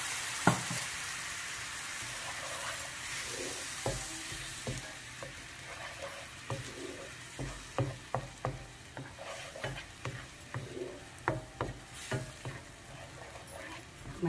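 Flour (maida) frying in a pan and then milk being added, with a quiet steady sizzle and a rhythmic series of spoon scrapes and taps that grows more regular.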